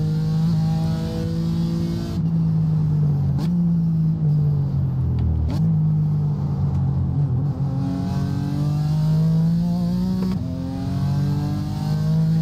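Race car engine in the iRacing sim at Oulton Park, a production car on a drying track, droning loudly and steadily throughout, its pitch rising and falling with gear changes and throttle, close and continuous with no talk.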